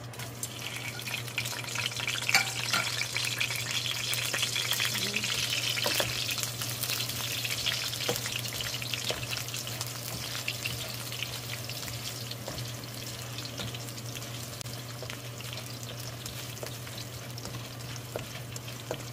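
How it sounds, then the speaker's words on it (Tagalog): Chicken feet and gizzard sautéing in a pan with chili for adobo, giving a steady close sizzle and frying hiss with occasional stirring clinks, and no talking over it. "Kailangan gisa natin itong mga ano para lumabas yung aroma niya guys."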